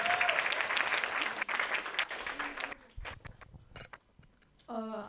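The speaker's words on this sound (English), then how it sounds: "So a big round of applause for this video itself" Audience applause at a grand launch event for a Mumbai campus media agency, dense clapping filling the first half, then thinning into scattered claps and sparse taps before a brief voice at the end.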